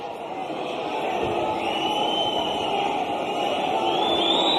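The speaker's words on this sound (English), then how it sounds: "Crowd wants more." Continuous roar of a packed crowd at an Eagle FC MMA main event, a steady, swelling wash of cheering that builds slightly toward the end, under a commentator's voice.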